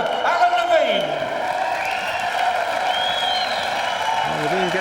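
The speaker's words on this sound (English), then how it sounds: "Levine gets the applause" A boxing crowd applauds defeated boxer Alan Levine after a fight stopped in round five, a steady wash of clapping and murmuring under an announcer's voice and other talk.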